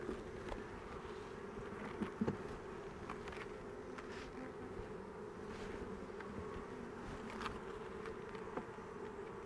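Honeybees buzz steadily inside an open hive during an inspection of a queenless colony, a dense, continuous drone with no talk, occasional brief clicks and handling knocks over the hum.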